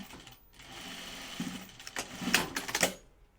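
A sewing machine stitches fabric in short, faint mechanical bursts, with a quiet stretch before rapid clicking runs that stop near the end.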